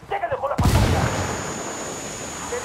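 A thrown frag grenade explodes with a sudden heavy boom in Ghost Recon Wildlands, its roar decaying into a long rumbling tail with crackling gunfire, after a short stretch of voices talking over the combat.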